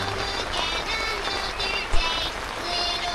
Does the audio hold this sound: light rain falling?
yes